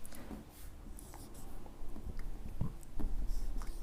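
A pen writes numbers on paper in short scratchy strokes and taps, close and fairly quiet, with no speech over it.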